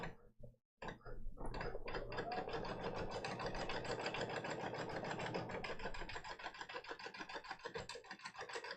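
A Baby Lock Altair 2 sewing machine stitches window screen, running at a fast, steady rhythmic whir for several seconds after a brief start, then slowing into uneven bursts near the end.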